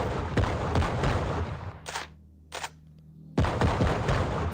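Grenadier class pistol firing in the VR game Sweet Surrender on Quest 2: loud, close shots with a dense blast, then a quieter gap broken by two short mechanical clacks, before another heavy burst.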